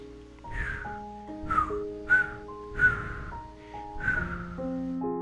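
A narrator imitates a station master's whistle, giving about five short, bright whistled notes in a steady rhythm over soft, sustained background music.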